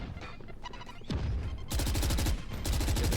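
Rapid automatic gunfire in the video game Valorant during a college esports match, dense bursts of close shots that grow louder and more sustained toward the end.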